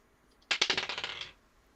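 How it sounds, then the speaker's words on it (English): Dice are rolled on a table during a tabletop role-playing game: one hard strike, then a quick run of rattling clatters that fades within a second, close and clear. "That's a 6 on the dice."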